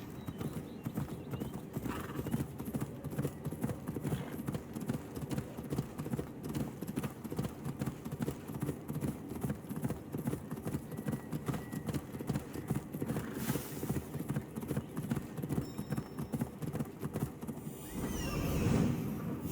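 Horse hooves clip-clop steadily at a trot for a long stretch in the video game Assassin's Creed Odyssey, with a whinny heard toward the end.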